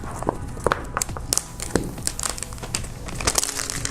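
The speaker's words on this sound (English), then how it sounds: "Got your standard plastic, which we will hopefully get rid of." Plastic wrap is crinkled and peeled off an iPhone XR box at close range, with bursts of crackling and rustling and a few sharp snaps, no talking.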